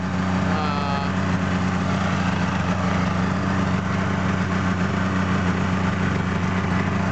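A 2002 Yamaha SX Viper 700 snowmobile engine with 10,988 miles idles steadily on a stand, a loud, even two-stroke drone close up with no revving.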